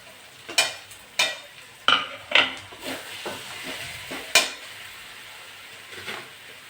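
Spiced masala of chili, coriander, Kashmiri chili, cumin and turmeric powders being stirred and sautéed in a pan for a jackfruit and prawn dish: a series of sharp utensil scrapes and clinks over a soft background sizzle, close up, no talking.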